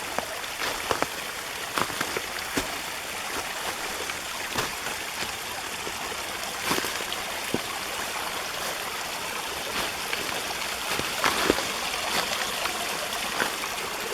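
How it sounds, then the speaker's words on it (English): Water pours steadily out of a collapsed, flooded mine along an abandoned railroad trail, a continuous rushing hiss with scattered splashy ticks throughout, loud and close with no talk. "it was all filled up with water, and now it's pouring out"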